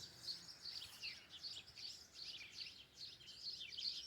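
Small birds chirp and tweet near a nest in a garden, a steady stream of quick, high, repeated calls at moderate distance with no talking.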